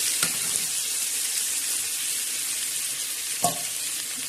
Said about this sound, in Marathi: आता छान असं मस्त असं हलवून घेणार आहे